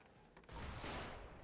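Gunfire erupts in the video game Hunt: Showdown, a loud booming blast that swells into a sustained, roaring rumble after a brief quiet lead-in.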